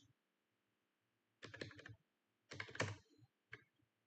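Short, quiet bursts of typing on a computer keyboard come in three clusters of rapid clicks, separated by near silence.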